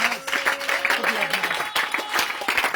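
A congregation at a prayer service claps and cheers continuously, a dense wash of applause with voices calling out over it and a tonal hum underneath.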